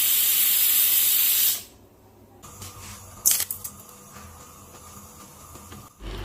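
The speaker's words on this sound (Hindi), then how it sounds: "यहाँ पे मैं दाल का एकदम ज़बरदस्त सा तड़का रेडी कर रही हूँ। गरम तेल में ज़ीरा और खड़ा गरम मसाला डालना है" Cumin and whole garam masala hit hot oil for a dal tadka, giving a loud close sizzling hiss that cuts off abruptly, followed by quieter crackles, clinks and a short hiss burst.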